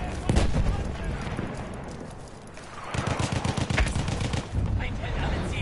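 Sjogren Inertial shotgun firing in Battlefield 1, several loud blasts spaced out at a moderate rate amid battlefield gunfire and noise, with sharp bursts of shots near the start and again toward the end.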